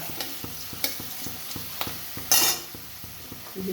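Two dried red chillies and a bay leaf sizzle in hot oil in a pan, a soft, steady fry broken by regular light taps of stirring and one brief louder hiss partway through.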